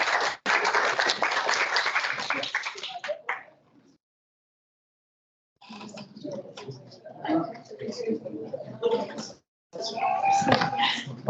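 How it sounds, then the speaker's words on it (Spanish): An audience at an academic session claps for a professor after his talk, a dense burst that stops abruptly, followed by silence and then scattered noises and murmured voices. "Hernán, un aplauso,"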